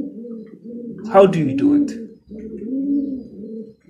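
Roller pigeons cooing nearby in soft, repeated throaty rolling calls, while someone speaks briefly over them.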